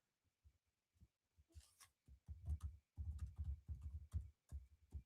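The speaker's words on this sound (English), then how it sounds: "I'm just typing" Typing on a computer keyboard comes as quiet, irregular key taps, sparse at first and then quicker bursts of clicks, close but faint with no talking.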